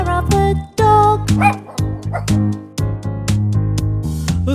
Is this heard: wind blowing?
no